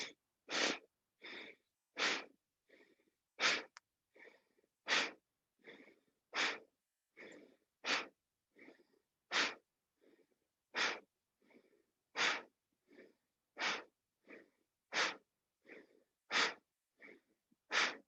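Breathing during chair yoga with a strong focus on pushing the air out: a steady run of about twenty short, forceful breaths at an even rhythm, close and clear with no talking.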